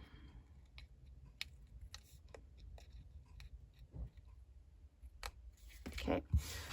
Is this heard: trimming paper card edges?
yes